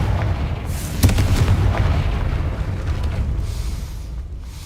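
A Confringo fire spell explodes in Hogwarts Legacy, giving a loud, near boom about a second in that rolls into a sustained rumbling blast with no voices over it.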